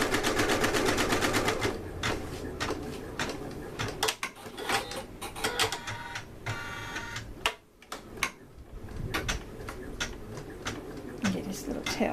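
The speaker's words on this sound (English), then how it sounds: "This is 800. That's as high as this machine will go, and you can see it's sewing quite nicely." A sewing machine stitching a onesie at its top speed of 800 gives a rapid, even mechanical chatter, loud and close, with a brief pause partway through.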